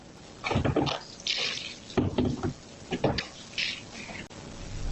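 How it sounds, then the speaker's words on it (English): Gasoline splashes from a gas can onto a Cadillac Escalade, picked up by a surveillance recording as irregular liquid glugs and splatters in uneven bursts, moderately close, over faint background hiss. "audio from the surveillance can be heard of gasoline being poured on the vehicle"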